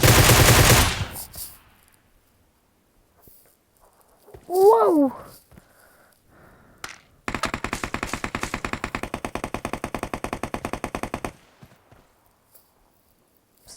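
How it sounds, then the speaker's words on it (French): Video game gunfire: a loud burst opens, a voice exclaims briefly, then a sustained rapid automatic volley of evenly spaced shots runs for about four seconds before stopping. "J'ai entendu tirer."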